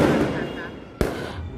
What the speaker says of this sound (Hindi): अभी तो आतिशबाजी चल ही रहा है